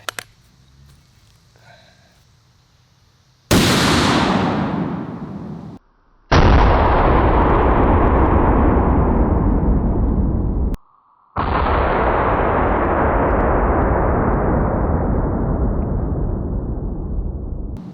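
A Barrett .50 caliber rifle with a muzzle brake fires three deafening shots spaced a few seconds apart, each a sharp, thunderous blast followed by a long rolling echo outdoors.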